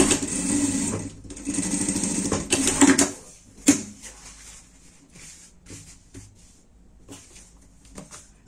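Sewing machine running a seam along cut fabric pieces, a steady mechanical whirr in two longer bursts early on, then shorter stop-start runs and clicks that grow fainter toward the end.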